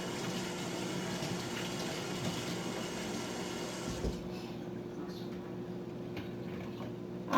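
Kitchen tap running steadily while fingers are rinsed under it, a continuous close splashing wash of water that stops abruptly near the end, followed by quieter room sound.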